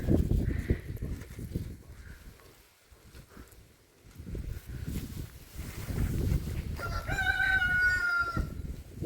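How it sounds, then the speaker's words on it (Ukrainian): A neighbour's rooster crows loudly near the end, a long wavering call after stretches of rustling and low background noise in a garden. "І в сусідки репетує півень."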